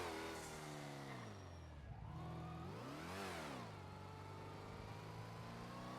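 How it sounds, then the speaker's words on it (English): Car engine in the NoPixel 4.0 video game revs steadily, its pitch dipping and then climbing sharply in a rising rev near the middle before settling back to a loud sustained drone. "You rev the engine before taking off."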